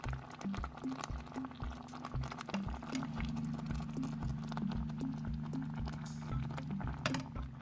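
Shrimp boiling in a pot of water on the stove, a steady bubbling simmer with soft irregular pops and gurgles, close and continuous throughout with no talking.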